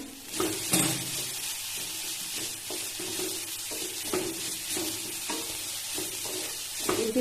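Drumstick flower vegetable cooks on a low flame under a lid, giving a continuous gentle sizzle with faint irregular clicks and taps, close and fairly even throughout, with no voices.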